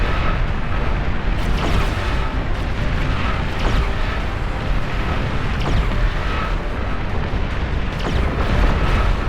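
Calamity artillery fires in the strategy game Beyond All Reason, a dense, continuous rumble of heavy booms and blasts rolling on with no pause.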